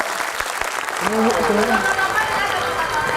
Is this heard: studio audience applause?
yes